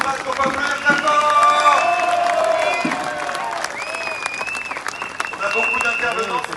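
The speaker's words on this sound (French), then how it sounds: "Merci Alexandre Paz, on va applaudir d'abord" Crowd at an outdoor political rally of Les Patriotes clapping and cheering, a broad wash of applause with scattered whistles and voices mixed in throughout.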